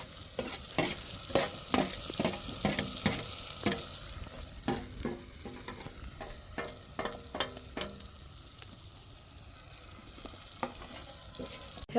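A vegetable curry with paneer fries in a pan, steady sizzling broken by repeated rhythmic scrapes and knocks of a stirring spoon, close and clear with no talking.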